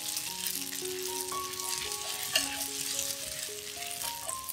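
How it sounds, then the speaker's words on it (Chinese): Flat rice noodles (kway teow) stir-fried in hot oil for a vegetarian dish give a steady, close sizzle with a broad hiss that stays even throughout, alone with no voices. "待油热后放入果条，炒一炒。"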